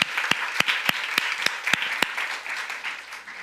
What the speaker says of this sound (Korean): 격려와 축복의 박수 주시면 감사하겠습니다